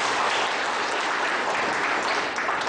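Dense applause from the women's section of a seated audience at a teacher-training session, a steady wash of many hands clapping together at even loudness throughout, with no voices over it.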